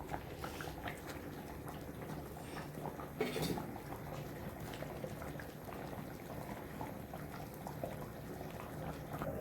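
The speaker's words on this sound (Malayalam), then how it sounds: "നല്ല കറക്റ്റ് തിളച്ച് നല്ല എണ്ണയൊക്കെ ഇങ്ങനെ പൊങ്ങി വരുന്നുണ്ട്." Prawn curry, a Kerala-style theeyal, simmers in a pot with a soft, continuous bubbling and hiss, fairly quiet and steady, with a brief clink of cookware partway through and no talking.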